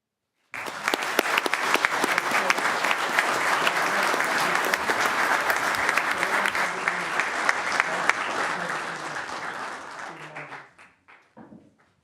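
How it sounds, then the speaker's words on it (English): An audience at a city council meeting gives sustained, energetic applause for new fire department members, steady for about ten seconds before thinning out into a few last claps. "ask for a round of applause"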